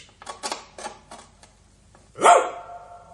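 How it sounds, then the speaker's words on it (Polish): A dog gives one sharp, loud bark after a run of light clicking taps, in a puppet theatre show for children, with no voices. "Pies!"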